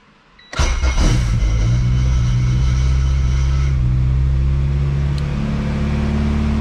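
An engine cranks briefly and catches, then settles into a steady, loud idle with a low rumble that continues to the end.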